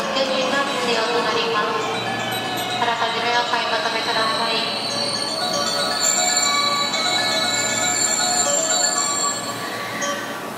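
A Haruka limited express train bound for Kyoto rolls into an underground platform at Osaka Station with steady rumbling and faint wheel squeal, while a station announcement voice talks over it throughout.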